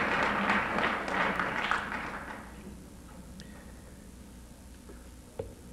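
Applause from a crowd gathered outdoors for the dedication of a Maryland state historical marker honoring Mother Jones, fairly loud for the first two seconds, then thinning to scattered claps and quiet room tone.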